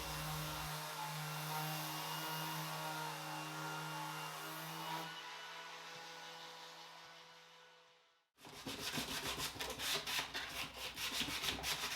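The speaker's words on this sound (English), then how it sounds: "I'm scuff sanding everywhere, getting ready for primer." Continuous scratchy sandpaper scuff sanding over furniture, close and steady, with a low hum underneath, then a brief pause and rougher, faster scuffing strokes.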